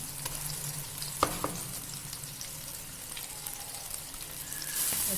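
Garlic ginger paste frying in hot oil with browned onions for an aloo matar curry, a steady close sizzle with a couple of sharp clinks of stirring.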